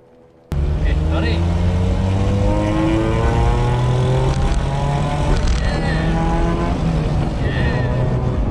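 A sports car engine roars through its exhaust, starting abruptly and droning loud and close with rising and falling pitch as it pulls through gears, while people talk over it.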